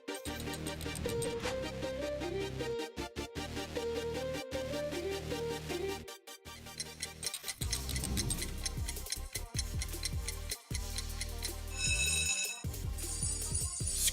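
An old-style telephone bell rings in repeated bursts over a dense, dark horror-film score, rising out of the music toward the end without any speech.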